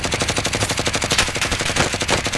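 Rapid automatic gunfire in Call of Duty: Modern Warfare, a dense, fast rattling burst of shots in a steady rhythm, loud and continuous throughout, with no talk over it.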